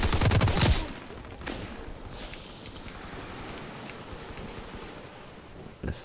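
A weapon fires in Call of Duty WWII: a quick burst of loud automatic shots at the very start, then a quieter stretch of ambient noise and one more sharp shot near the end.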